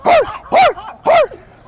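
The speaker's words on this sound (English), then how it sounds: "What's wrong with this dog?" A dog gives three loud, evenly spaced barks close up, each a sharp yelping burst with short pauses between, and no talking over them.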